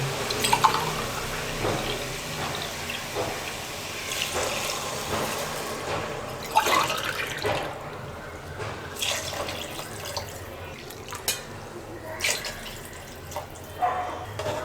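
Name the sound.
water being poured into a pot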